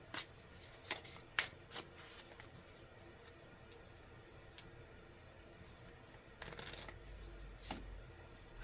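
Tarot cards are shuffled close by and very quietly, with soft riffling and scattered crisp taps and flicks, a few sharper bursts near the start and a brief louder shuffle toward the end.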